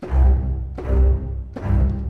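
A deep, full string ensemble plays three heavy sustained swells, each re-attacked about every three-quarters of a second, rich in low bass.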